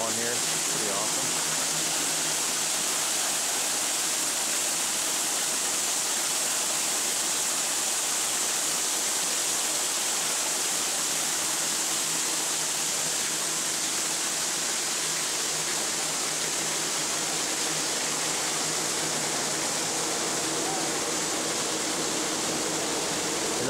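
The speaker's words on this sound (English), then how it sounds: "They even have a waterfall in here." An indoor waterfall inside the Climatron geodesic dome conservatory at the Missouri Botanical Garden gives a constant broadband rushing of falling water that stays steady and fairly loud throughout.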